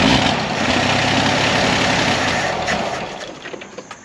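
An abandoned 1979 Jeep with a faulty fuel filter is cranked, its engine churning loudly and roughly for about three seconds before winding down into sputtering, uneven bursts.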